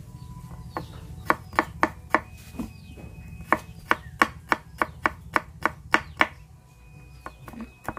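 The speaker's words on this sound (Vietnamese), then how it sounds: "Các bạn bằm những cái tép tỏi này ra nè, bằm cho nó nhuyễn ha" A knife minces garlic cloves on a cutting board, producing about fifteen crisp, sharp chops in quick rhythmic bursts with short pauses between, close and clear over quiet background.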